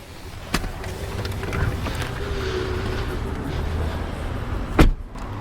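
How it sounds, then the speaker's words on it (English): The powered trunk of a 2009 Mercedes-Benz S63 AMG opens after its button is held: a sharp click, a faint, low motor whir for a couple of seconds, then a firm thunk near the end. "Open the trunk, press and hold the button."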